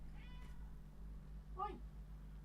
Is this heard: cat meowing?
yes